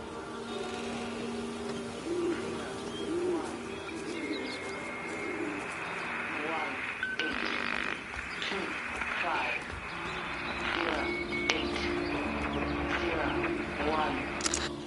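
Pigeons coo repeatedly in the Everybody's Gone To The Rapture video game, soft rounded calls with a few chirps mixed in. They sit under steady ambient game sound and a voice talking.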